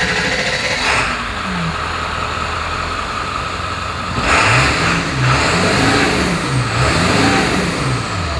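A Ford Super Duty truck's 7.3 Powerstroke diesel engine runs steadily, its loud, continuous rumble swelling partway through as it revs up, with no voices over it.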